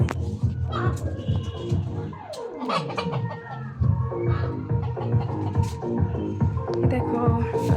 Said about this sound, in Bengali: এখানে মুরগির পালা হয়